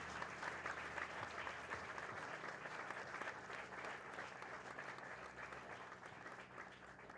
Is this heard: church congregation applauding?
yes